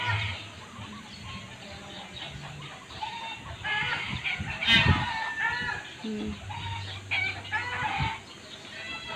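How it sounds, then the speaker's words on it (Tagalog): Chickens cluck and a rooster calls nearby amid outdoor ambience at a resort in Pansol, Philippines, with a few brief voices in the background. "May mga manok din."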